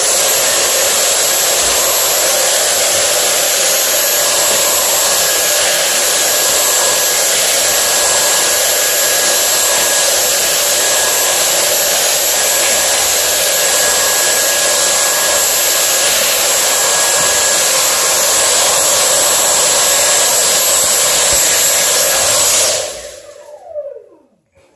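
A Dyson V8 cordless vacuum cleans a bathroom vent grate with a loud, steady high-pitched motor whine and airflow rush that holds evenly for over twenty seconds, then cuts off abruptly and winds down.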